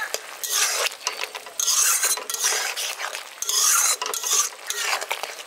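Mustard paste is worked into boiled potatoes with a spoon in a pot for a village-style drumstick and potato curry, giving close, repeated scraping and clinking strokes in bursts with short pauses.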